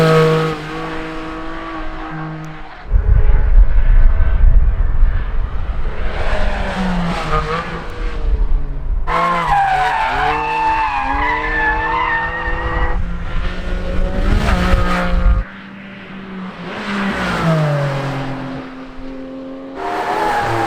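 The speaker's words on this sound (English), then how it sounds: "Sport exhaust. Oh, here you go. Oh, that sounds really good. Flat six." A 2020 Porsche 718 Cayman GT4 with a flat-six and sport exhaust revs and accelerates loudly, its pitch rising and falling through several gear changes as it passes close by.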